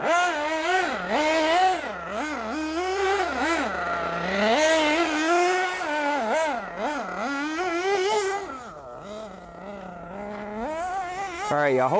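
A Losi 8IGHT nitro RC race buggy runs with a high, buzzing engine note that climbs and drops in repeated revving swells, steady and moderately close throughout.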